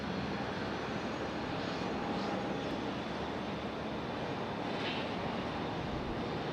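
A Southwest Airlines jet at Raleigh-Durham airport produces a steady, faint broadband roar heard from a distance, with no voices.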